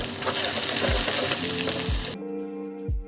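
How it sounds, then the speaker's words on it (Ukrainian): Shrimp fry in a pan with a steady, loud sizzle that suddenly drops to a quieter crackle. A few soft low thumps sound now and then. "З одної сторони наша креветка вже обсмажилась, тепер ми просто чекаємо 30 секунд, щоб вона підрумянилась і дійшла до повної готовності."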